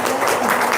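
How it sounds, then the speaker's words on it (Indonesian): A short, dense burst of audience applause fills the whole moment at steady loudness, with no clear voice standing out. "Tepuk tangan dong."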